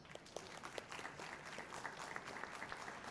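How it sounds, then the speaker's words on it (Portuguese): An audience at a vehicle-safety research event applauds the speakers, a steady, fairly faint patter of many hands clapping in a hall, with no voices over it. "Vamos aplaudir mais uma vez"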